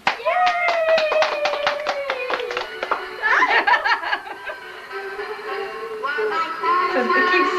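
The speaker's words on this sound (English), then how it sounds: "Clap." A burst of quick, sharp hand claps, close and clear, over steady voices and laughter that continue after the clapping fades.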